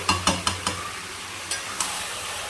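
Black meat being sautéed in a pan, with a series of quick scraping stirs of a spatula over a steady soft sizzle, close and fairly loud.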